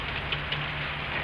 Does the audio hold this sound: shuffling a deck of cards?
no